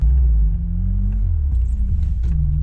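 A VAZ 2106 car engine rumbles close and loud, its low drone rising a little as the throttle is raised, with no talking.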